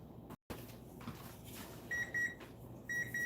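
A kitchen-style timer beeps in short repeated electronic tones, a few quick bursts in two groups near the end, moderately loud over quiet room noise during a live dyeing session.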